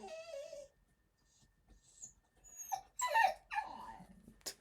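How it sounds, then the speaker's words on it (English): A pet dog whimpers and whines for attention at close range, a long high whine followed by a pause, then several short, uneven whimpers and squeaky cries. "You can hear the dog."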